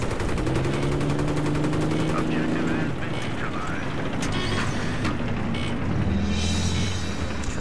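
Rapid bursts of video game gunfire rattle over jet and tank engine drones and mechanical hums, with voices talking intermittently underneath in a busy battle mix.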